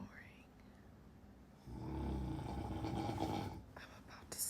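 A husband snoring while asleep: one deep, rumbling snore swells up partway through and holds for about two seconds, close and fairly loud against a quiet room, with faint breathing around it.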